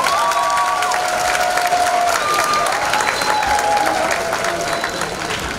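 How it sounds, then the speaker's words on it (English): Loud applause at a middle school graduation, with cheers and a few whoops rising over the dense clapping as the crowd celebrates the students. "Let's give a round of applause for our students who have made it here today."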